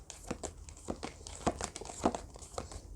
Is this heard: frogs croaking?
no